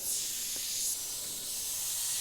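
An Iwata HP.BCN Neo suction-feed airbrush sprays paint in a soft, steady airy hiss that runs without a break, close and fairly quiet.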